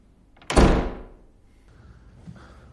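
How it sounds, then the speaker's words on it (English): A door slams shut with a single heavy thunk that rings briefly and fades, followed by faint room tone and a small knock. "Close the door."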